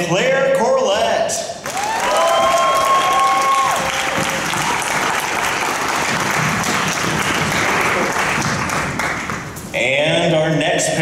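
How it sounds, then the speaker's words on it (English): Convention audience at a fan event applauding and cheering loudly as guests are introduced on stage, a dense sustained roar of clapping with a voice speaking over it at the start and end. "Make some noise for Ian and Claire Corlett."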